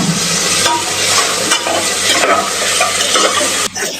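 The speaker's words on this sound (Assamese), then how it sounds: "অলপ ভাজি লম মানে হাফ ফ্ৰাই কে" Vegetables being half stir-fried in a pan, a loud, close, continuous sizzle broken by brisk scraping stirs and a brief clatter near the end, with no voices.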